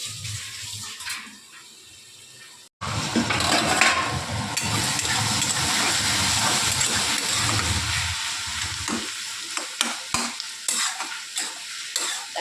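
Fish heads frying in a covered pan as an Indian home cook prepares a bottle gourd dish. After a short quiet start, a loud steady sizzle and hiss runs throughout, with occasional clinks and pops near the end.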